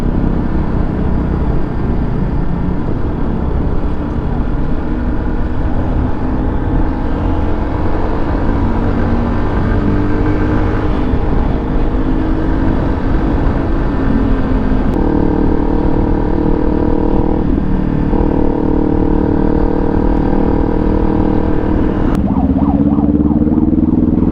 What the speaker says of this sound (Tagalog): Yun yung tambucho kong ilalagay sa motor ko.